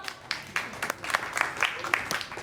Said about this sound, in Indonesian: Tepuk tangannya boleh dong.